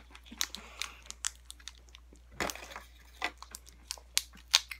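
Crunchy bites and chewing of a Butterfinger candy bar, close up, in irregular bursts of crisp crackling with one louder crunch midway and no talking.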